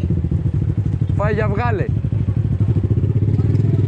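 Small motorcycle being ridden, its engine droning steadily and close throughout, with a rising rev partway through while someone talks over it.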